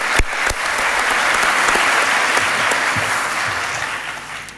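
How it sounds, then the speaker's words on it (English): Loud, full audience applause at a conference closing session, a dense sustained roar of clapping with a couple of sharp close claps at the start, tapering off at the end. "So I would like to ask for a round of applause for all of these people I just mentioned."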